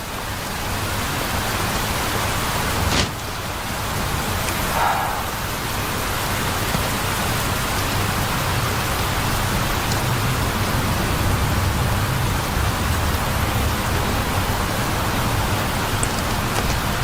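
Steady rain pours down in a dense, even hiss that holds at the same level throughout, with a brief brighter splash or movement near the start and no voices.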